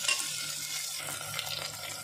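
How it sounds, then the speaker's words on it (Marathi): Onions and green chillies frying in oil for a soybean pulao, a quiet, brief steady sizzle with faint stirring sounds and no talking. "कांद्याबरोबरच मी हिरवी मिरची पण घालते, म्हणजे मिरचीचा तिखटपणा उतरतो चांगला आपल्या तेलामध्ये।"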